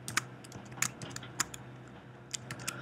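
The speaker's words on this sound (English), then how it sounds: "I can type in things like my Ahref text." Light, irregular keystrokes on a computer keyboard as link text is typed, a handful of distinct sharper clicks over a faint low hum, with no one speaking.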